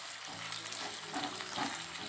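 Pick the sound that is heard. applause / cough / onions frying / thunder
onions frying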